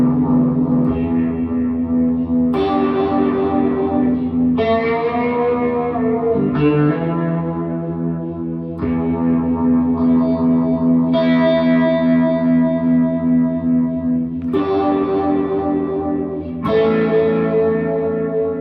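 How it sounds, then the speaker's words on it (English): Electric guitar played through effects in a Robin Trower style lesson, sustained distorted notes and chords washed in echo, reverb and chorus, loud and continuous with new phrases struck every couple of seconds, no talking. "Now, obviously, I can play a little bit of guitar."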